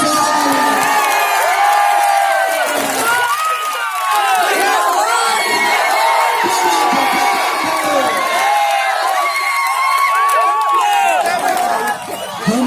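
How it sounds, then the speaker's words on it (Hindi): A large crowd at a poetry gathering in Bihar, India, cheers and shouts continuously, loud and sustained, with excited voices and whoops filling the whole stretch. "जोरदार तालियों से"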